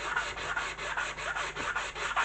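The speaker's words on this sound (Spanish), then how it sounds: "lo que vamos a hacer es lijar un poquito esa junta con un taco de lija de grano medio" A medium-grit sanding block rubs back and forth over a joint in a decoupage piece, about ten even, rhythmic scraping strokes heard up close with no talking.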